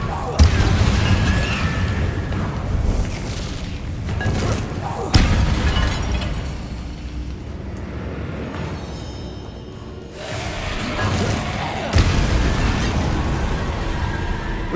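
Confringo blasting spell explosions in Hogwarts Legacy, with several sharp booming bursts spaced a few seconds apart amid combat noise and other spell effects, and a voice speaking over the action.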